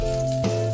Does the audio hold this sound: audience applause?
no